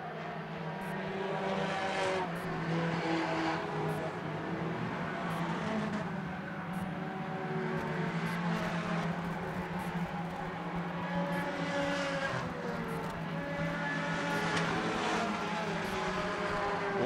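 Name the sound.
race cars duelling on a concrete oval track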